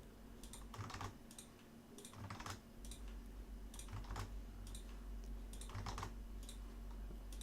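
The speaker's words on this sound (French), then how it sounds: "on peut aussi le faire au clavier, ça va un peu plus vite. CTRL-V pour coller." Several bursts of keystrokes on a computer keyboard, including a Ctrl-V paste shortcut, tapped in quick irregular clusters at close range over a steady low hum, with no voices.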